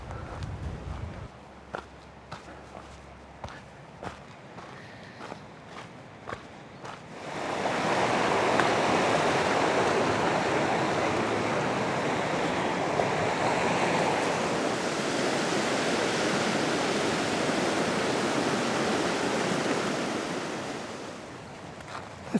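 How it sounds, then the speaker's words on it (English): A wild river flowing below majestic cliffs, heard first as faint footsteps and gusts, then as a loud, broad, steady rush of water that swells in and holds for the rest of the span. "here's the river according to the map."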